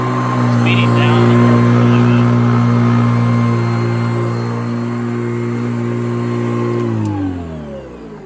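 A Hoover Professional Series vacuum cleaner motor winds down after being switched off, a loud steady whine that holds for several seconds and then slides lower in pitch near the end, with no talking over it.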